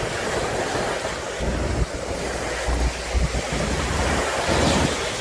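Ocean waves at Klotok beach roar in a steady, dense wash of surf, with strong wind buffeting the microphone throughout; no voices.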